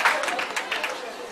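Brief applause from a ceremony audience honoring a guest at a partnership event, a light, scattered clapping that fades slightly over the short moment, with a voice faintly present underneath.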